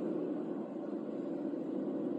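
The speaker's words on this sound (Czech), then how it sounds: "Musím si podřadit, aby to moje slabý auto vyjelo." A weak small car's engine labouring uphill after a downshift, a steady low droning rumble heard from inside the car, even and unbroken with no other sounds.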